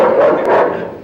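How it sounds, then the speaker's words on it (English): A dog barks in a scene from the 1970s sitcom All in the Family, a dense, steady burst of sound filling the short moment with no voices over it. "Sounds like a sweet old dog to me."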